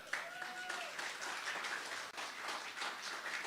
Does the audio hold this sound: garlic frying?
no